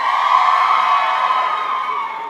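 Crowd at a university commencement ceremony cheering and whooping, a sustained loud roar of many voices that holds steady and fades slightly toward the end.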